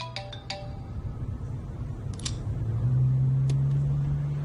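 A mobile phone ringtone rings indoors during a drama scene, sounding a few short tonal chirps early on, then a steady sustained tone that swells and holds over a low background hum with no speech.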